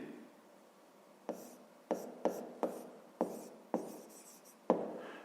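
Pen or chalk writing in a math lesson, a soft continuous scratch punctuated by about eight sharp strokes or taps, close but quiet, with faint low speech-like murmur beneath.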